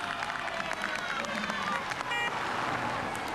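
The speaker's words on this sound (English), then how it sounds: "makes a start to a round of applause from the crowd" A roadside crowd at a 1999 Vuelta a España time trial cheers and claps steadily as a cyclist starts, with a commentator talking over the applause.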